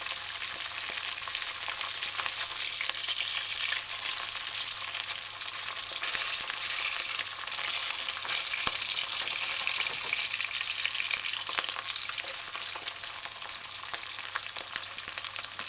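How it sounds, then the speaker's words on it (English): Ham frying in a pot of hot oil on a high flame, a steady dense sizzle and crackle that runs loud and unbroken throughout, close by. "You kind of want to make sure it's fried properly on one side before you flip it"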